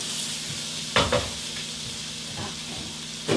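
Corn sizzles steadily in a hot pan for a Cobb salad, a continuous frying hiss broken by a few louder bursts of stirring and scraping, close and with no talk.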